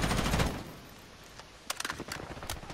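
Gunfire in Call of Duty Modern Warfare: a heavy burst at the start, then a quieter pause, followed by rapid, sharp automatic shots in a quick, irregular series, moderately close.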